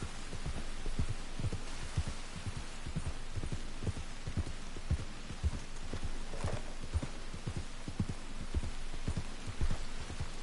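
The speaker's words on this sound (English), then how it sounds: "It's raining, it's raining, it's raining." Steady rain hisses in the Red Dead Redemption 2 world near Clemens Point, with regular, rhythmic hoofbeats from a horse thudding through it for the whole stretch.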